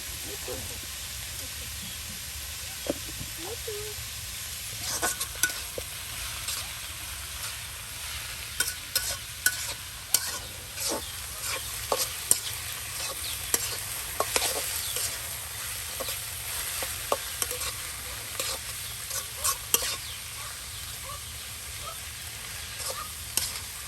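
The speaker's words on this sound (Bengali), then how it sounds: "দেখুন তেলে কিন্তু এই যে ভেজে নেওয়া হচ্ছে।" Chopped bottle gourd fries in oil in a village kitchen, with a continuous bright sizzle and frequent scraping, clicking stirs of a spatula, close and loud throughout.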